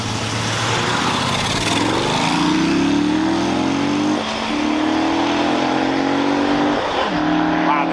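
A BMW with the N54 engine launches hard in a drag race against a motorcycle, a loud continuous engine roar with rising revs, a brief dip near the middle as it shifts, then climbing again through the rest of the run.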